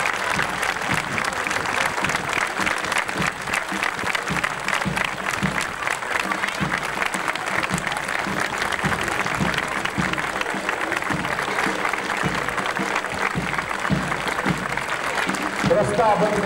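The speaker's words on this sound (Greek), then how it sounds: "Ένα ζεστό και δυνατό χειροκρότημα στα παιδιά του ειδικού δημοτικού σχολείου Κομωτινής." Spectators at the May 14, 2019 parade in Komotini, Greece, clap for a special primary school's marching children, a long, steady outdoor round of applause with voices mixed into the crowd noise.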